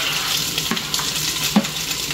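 Spam sizzles gently in a pan, a soft steady frying hiss broken by a few light clinks of stirring.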